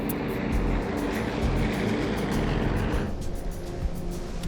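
A steady, droning propeller airliner engine roar with a pulsing throb, loud and continuous throughout, slightly easing toward the end.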